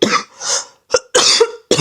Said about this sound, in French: j'ai une toux dont j'arrive pas à me débarrasser depuis un certain temps